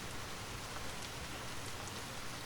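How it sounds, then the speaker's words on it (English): Heavy rain falls steadily, a dense, constant hiss of drops on a town street, faint and unbroken with no voices. "Heavy rain with hail, thunder, lightning."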